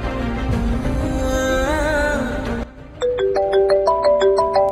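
Mobile phone ringtone for an incoming call, a repeating melodic jingle that starts partway through after a louder stretch of other sound, playing clearly in a rising and falling tune.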